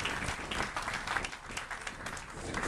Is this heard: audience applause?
yes